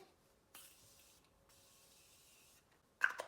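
A quiet pump spray of Morphe Continuous Setting Spray hisses out a fine mist in one long, steady burst, followed by a sharper, louder spritz at the end.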